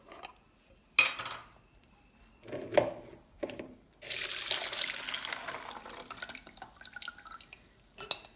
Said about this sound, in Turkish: bir gece bekletmiş olduğum muz kabuğu suyunu şimdi süzeceğim